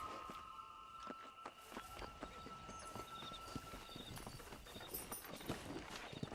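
Steady horse hooves clip-clopping at a riding pace in the Western game Red Dead Redemption, a continuous rhythmic patter of hoof strikes over a low outdoor ambience with no talk.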